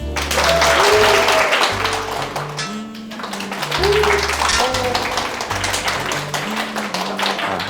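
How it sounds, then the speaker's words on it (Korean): Audience applause at a physics magic show rises and falls in short bursts, mixed with music and speech-like harmonic tones throughout. "여러분들이 큰 박수로 마무리해 주시는 겁니다"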